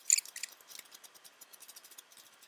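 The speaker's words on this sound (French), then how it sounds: "je vais venir couper que un seul côté de l'alvéole, sur tout un côté" Honeycomb cardboard for cosplay fairy wings is snipped with scissors in a quick, even series of small, faint close-up cuts, one after another.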